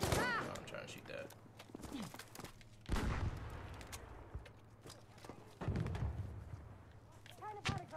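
Gunfire in Battlefield 5 team deathmatch, with several bursts of shots and thuds scattered through busy game noise, under a player talking.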